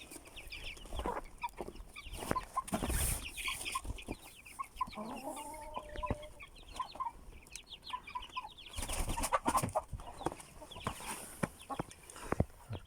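Chickens cluck and squawk close by, with busy rustling and wing flaps throughout, no talking.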